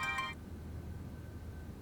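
A phone ringtone sounds briefly and loudly at the start, then cuts off, leaving quiet room tone.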